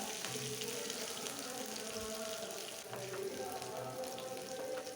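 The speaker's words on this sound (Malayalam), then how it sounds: "ഇനി നല്ലതുപോലെ ഒന്ന് വഴറ്റിയെടുക്കാം" Minced garlic and a small piece of ginger sauté in oil in a pan, giving a steady, soft sizzle that stays even throughout with no talk over it.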